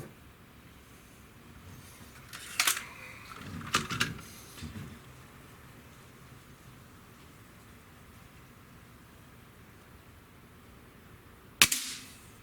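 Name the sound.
Sig Sauer ASP20 break barrel air rifle shot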